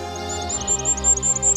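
A goldcrest sings among the spruce branches of a dense Bieszczady forest, giving a thin, very high, rapidly repeated series of notes that carries over a soft, steady background.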